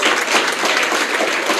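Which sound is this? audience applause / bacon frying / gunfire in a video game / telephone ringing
audience applause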